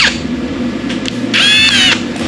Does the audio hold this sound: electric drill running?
yes